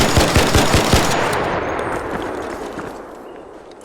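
Gunfire during a Bettina build test in a video game: a loud, close burst of rapid automatic shots that ends after about a second and leaves a long, fading echoing tail.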